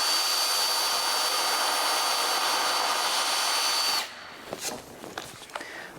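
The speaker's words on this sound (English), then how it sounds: "This first one is done with a twist bit, and I will just punch it through." A power drill with a twist bit punches through a hole in a steady, high whine lasting about four seconds, close and loud, then cuts off into quiet clicks and handling noises.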